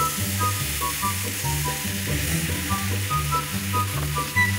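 Chicken for menudo sizzles loudly in a hot pan as it goes in. Steady frying crackle sits under repeating background music, and no one talks.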